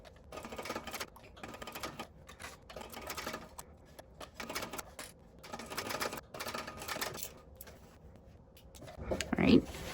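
A sewing machine back stitching at the start and end of a seam while sewing a bag, with short bursts of rapid stitching separated by pauses and a light clack near the end.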